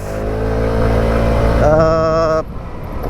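A Sym Symphony SR 125 scooter with a liquid-cooled four-valve 125 cc engine revs up close, the pitch climbing and holding high before it drops back abruptly to a lower drone.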